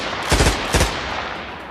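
Bursts of gunfire from a Hamas attack, captured in news footage: two sharp, loud volleys in quick succession a short distance away, each a rapid cluster of shots, with no voices over them.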